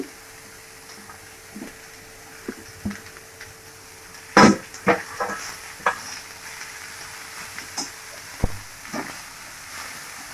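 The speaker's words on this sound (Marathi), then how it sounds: "हे एक मिनटं परतून घ्यायचं लगेच टाकूया शिमला मिरची" Chopped capsicum sautéing in a pan for veg momo filling: a steady low sizzle broken by scattered scraping and clinking stirs, with one loud clatter near the middle, close and clear with no talk.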